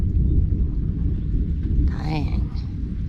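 Rolling thunder rumbles deep and continuous during a rainstorm, filling the whole moment, while someone speaks briefly over it near the end.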